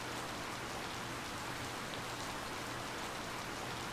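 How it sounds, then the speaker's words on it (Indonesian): Steady rain falls in the farming video game Harvest Moon: Light of Hope, a soft, continuous hiss of drops on surfaces that holds even and fairly quiet throughout. "Hujan."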